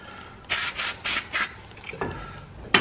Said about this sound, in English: I'm going to take some brake clean and spray it on there.